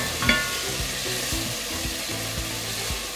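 Vegetables frying in a pan while being stirred, a steady close sizzle with rhythmic scraping and knocking of the utensil against the pan roughly every half second.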